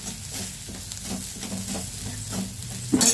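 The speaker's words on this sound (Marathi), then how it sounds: "आता त्याच्यामध्ये मी मीठ घालून घेणार आहे आणि थोडंसं हळद घालणार आहे आणि 2 मिनिटं चमच्याने हलवून घेणार आहे।" A spoon stirs fried onion, chilli, salt and turmeric in a pan for potato bhaji, with a steady close sizzle and rhythmic scraping strokes repeating about every half second, ending in a sharper clink, no talking.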